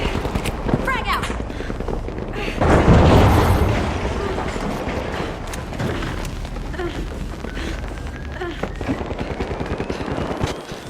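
Gunfire and a grenade explosion in the video game The Finals: steady rattling shots throughout, a heavy booming blast around the third second, then more scattered firing, with voices speaking over the action.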